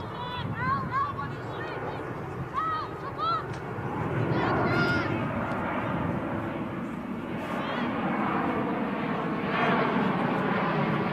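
A fixed-wing airplane comes in overhead at a women's soccer match in Victoria, its broad engine roar swelling and holding loud beneath a commentator's steady talk and distant crowd noise.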